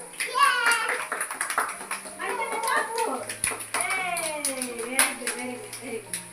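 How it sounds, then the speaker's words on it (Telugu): A group of children clapping together in a classroom, quick scattered claps running under a woman's lively speech throughout. "కాబట్టి క్లాప్స్"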